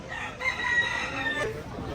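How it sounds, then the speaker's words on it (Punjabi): A fighting-cock rooster crows once at a farm animal auction in California, close and loud, a drawn-out call lasting about a second over a low background murmur. "ਆਹ ਦੇਖ ਲਓ ਕੁੱਕੜ ਲੜਾਕੂ ਕੁੱਕੜ"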